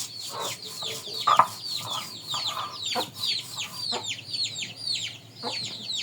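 Sick, chilled chicks clucking and peeping in a run of short chirping calls, with a slightly louder burst partway through, moderately close and heard alone.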